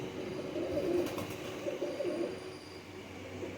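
Rampuri pigeons coo softly and repeatedly over a steady low background hum, the calls blending into a continuous murmur close by.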